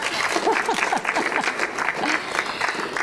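Clapping from the gathered guests at a bar mitzvah service, a continuous patter of many hands close by, with a few voices talking and calling out over it.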